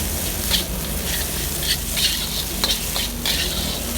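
Crab fried rice sizzling and hissing in a hot wok, with repeated scraping and tossing strokes from a spatula, steady and close.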